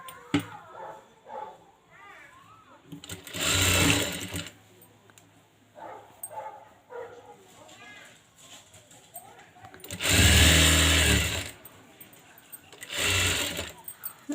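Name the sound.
sewing machine stitching blouse puff sleeves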